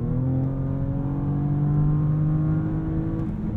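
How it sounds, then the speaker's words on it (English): A 2023 Audi S7 Sport with a V6 engine accelerates hard, its exhaust note a smooth, steady drone that climbs slowly in pitch, heard loud and continuous from inside the car with no voices. "We're also getting some more theater from that exhaust system."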